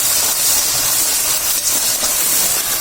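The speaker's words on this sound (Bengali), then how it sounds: "মশলাটা ভালো করে কষিয়ে নিব।" Spice paste frying in hot oil for a vegetarian Bengali dish gives off a steady, dense sizzle and hiss, loud and continuous throughout with no talking.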